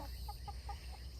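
Australorp hens and a rooster give soft, quick clucks, four short notes in a steady rhythm, faint and distant over a constant low background hum.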